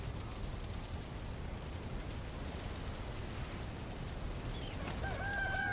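Chickens cluck in a coop in the video game Valheim, faint bird calls near the end over a steady rumbling, noisy background ambience.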